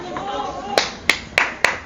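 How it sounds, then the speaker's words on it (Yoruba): Four sharp, separate claps ring out from a Yoruba quiz audience, each one quick and bright, after a short stretch of faint background sound. "Ẹ pàtẹ́wọ́ fúnra yín."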